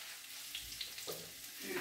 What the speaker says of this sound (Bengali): দেখতে পাচ্ছি আমার ওলটা প্রায় ভাজা হয়ে গেছে